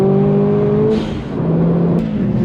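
A Subaru engine revs hard on a race lap, a loud close tone that climbs steeply, dips briefly at a gear change, then pulls strongly upward again.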